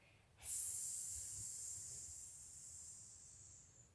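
A voice imitating a cat's hiss during a children's yoga exercise, one long breathy hiss that starts abruptly, stays fairly loud and slowly fades over about three seconds.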